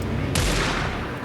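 One sharp, loud pistol shot from the video game Alan Wake II cracks out over dense, steady game background noise.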